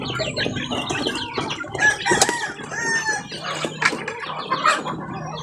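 Native chickens on a small farm cluck and chatter in overlapping calls at moderate distance, with a rooster's crow rising in the middle.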